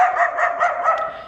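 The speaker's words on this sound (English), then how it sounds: "Love the dog." A dog in a small Spanish town barks in a quick run of repeated yips and barks, close and fairly loud, with no talk over it.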